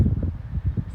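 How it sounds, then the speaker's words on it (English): Strong wind blows across open ground by Navajo Lake, a steady low rumbling buffet against the microphone with gusty surges and no speech, lasting about a second. "It's so windy over here."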